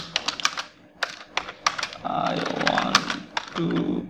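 Rapid, crisp clicking on a computer keyboard, typed in quick bursts with short pauses, close by, while a person speaks softly between the keystrokes.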